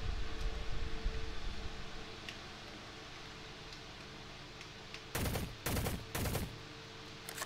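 In an online video game, a gun fires three short loud bursts near the end, after a stretch of low background rustle.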